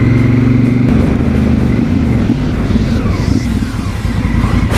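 Honda CRF1000 Africa Twin motorcycle engine running loud and close during a test ride, a steady mid-pitched drone that shifts slightly as the throttle changes, wind noise over it and no talk.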